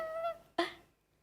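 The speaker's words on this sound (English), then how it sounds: "did anyone else just hear that seagull?" A brief seagull call, a tonal squawk followed by a harsher honking cry, fairly close and then trailing off into quiet.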